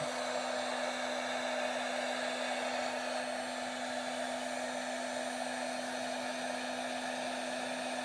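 A heat embossing tool runs continuously to melt gold embossing powder, a steady airy blower roar with a constant motor hum that stays even and unbroken throughout.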